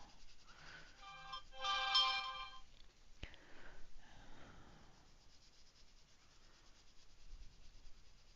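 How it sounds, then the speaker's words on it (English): A mobile phone ringtone plays a short melodic tone sequence during a live painting session, fairly quiet and brief, followed by a sharp click and faint shuffling. "sorry about that. I forgot to turn off my phone."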